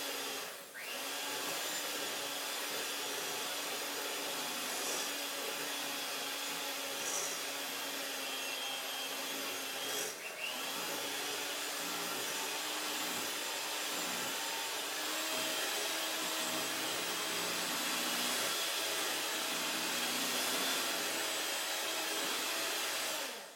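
An electric hand mixer whirs steadily and loudly for over twenty seconds, mixing milk for a PKU diet recipe in a home kitchen, with a constant motor drone and no talking.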